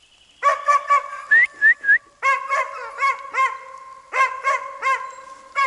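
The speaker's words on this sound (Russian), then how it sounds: "Оставим, пускай лает." A dog barks repeatedly from a little distance in the taiga, a series of sharp, ringing yelps and whining calls in uneven bursts, with a few rising whistle-like howls in between and quiet forest air behind.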